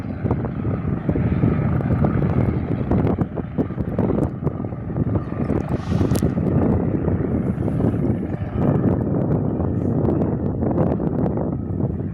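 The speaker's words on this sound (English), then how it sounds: "the Qantas 787-9 from Heathrow, London" A Qantas Boeing 787-9 airliner from London Heathrow roars steadily and loudly nearby on a windy day, its broad engine rumble continuous throughout, with gusts of wind buffeting the microphone.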